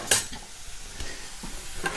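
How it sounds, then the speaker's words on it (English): Blueberries, sugar and lime juice hit a hot pan with a short sizzle, followed by a few sharp scrapes and clinks of a utensil stirring against the pan, close and fairly loud with no talking. "Hear that sizzle? Means we got some heat going."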